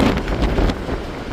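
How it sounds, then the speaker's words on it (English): Strong wind buffets the open deck of an Edmonds to Kingston ferry during a windstorm, a steady loud rumbling roar against the microphone with gusty swells and no voices. "it's way too breezy out there"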